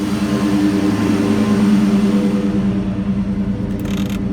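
A Mustang Cobra 4V DOHC engine idles to warm up, a loud, steady, close drone with an even low hum and no revving, slightly easing toward the end.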